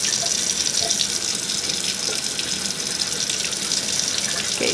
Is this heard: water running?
yes